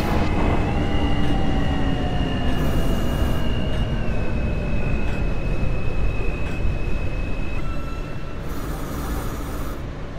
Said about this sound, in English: This is a Queens-bound R train.